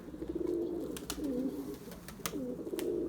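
Pigeons cooing in a loft, steady low rolling coos repeating close by with a few faint sharp clicks or taps mixed in.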